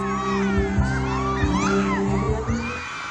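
Dagupan fans scream and cheer at an all-out performance: shrill, layered crowd shrieks and whoops over a steady musical backing, loud and continuous.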